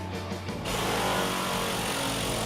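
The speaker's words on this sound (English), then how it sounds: "I'm using this air file to do the majority of the sanding on this" A brief tap and hiss, then a pneumatic air file starts up and runs steadily sanding body filler with a harsh, buzzing rasp, close by.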